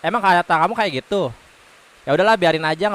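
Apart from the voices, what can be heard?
No everyday noises stand out.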